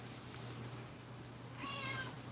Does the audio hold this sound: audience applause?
no